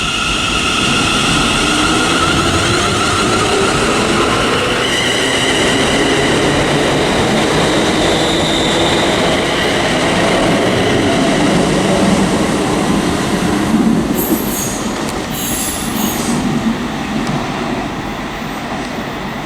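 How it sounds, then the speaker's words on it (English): ScotRail class 380 unit 380112 pulling out of Paisley Gilmour Street station bound for Wemyss Bay, a loud, steady rumble of motors and wheels on track with a brief high squeal near the end. "departing now is 380112 heading over to Wemyss Bay"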